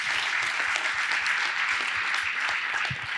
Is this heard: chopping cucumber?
no